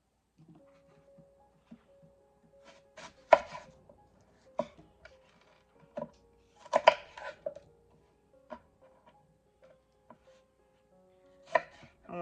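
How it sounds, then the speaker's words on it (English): Kitchen knife slicing the core out of an apple, heard as sharp, separated chopping knocks on a board, some clustered in quick doubles, against near silence, no talking. "I'm going to take the core out. Just going to slice it right there."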